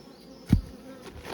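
Honeybees buzz near a hive in an outdoor apiary, a steady hum with one brief louder pass close by, without any talk.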